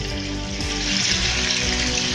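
Food frying in a pan for a Toriolo Kamblas Kambeng Lasuna dish, a steady, loud, dense sizzle that crackles continuously with no voices.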